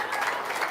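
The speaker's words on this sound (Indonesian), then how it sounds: "Tepuk tangan dong." Applause from a small group of people clapping hands at home, a steady soft patter of claps lasting under a second at moderate loudness with no voices over it.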